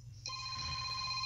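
A telephone rings with a bright, sustained electronic bell tone that starts abruptly after a brief quiet moment and holds steady, fairly close, over faint low background hum.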